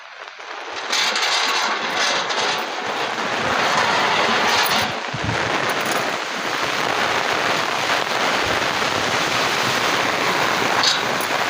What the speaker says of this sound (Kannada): ಗಾಳಿ ಜೋರು ಗಾಳಿ ಇದೆ